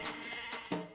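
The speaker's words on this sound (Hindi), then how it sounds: "भेड़ बकरियां भी उतरेंगी।" Sheep and goats bleating in short bursts, a couple of close calls rising over a steady low background.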